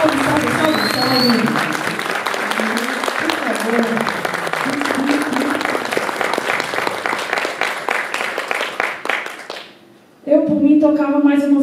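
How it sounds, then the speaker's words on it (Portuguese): Sustained applause from a live audience for musicians, dense clapping that fills the room for about ten seconds before briefly fading, then voices and cheering rise again. "uma salva de palmas para esses músicos esplendorosos"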